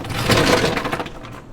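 About six ice cubes dropped into a double old fashioned glass, a quick cluster of bright clinks and rattles up close, settling and fading within a second.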